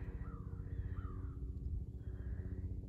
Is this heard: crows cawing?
yes